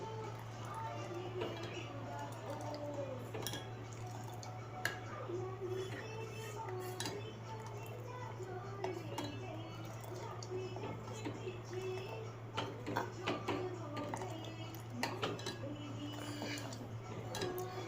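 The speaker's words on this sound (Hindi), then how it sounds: "अब मैं इसको चलाऊँगी।" A spoon stirring a condensed milk kulfi mixture in a pot, with repeated light clinks and scrapes of metal on metal under a steady low hum while someone talks.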